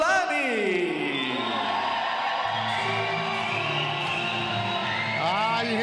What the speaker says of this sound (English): You hear the big crowd for him.